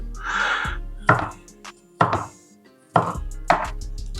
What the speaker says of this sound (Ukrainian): І потім дрібно нарізаємо